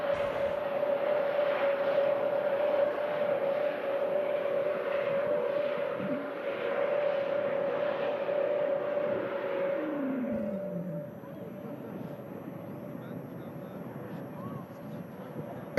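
An aircraft departing Manchester Airport for Orlando roars steadily with a broad rumble and a sustained tone, then fades as it climbs away and leaves quieter background noise.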